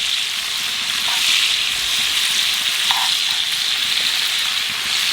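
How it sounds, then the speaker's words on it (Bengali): Giant freshwater prawns fry in a pan with a steady, close, dense sizzle that crackles on without pause and with no voices over it. "এই যে মাছ ভাজা প্রায় হয়ে গেছে"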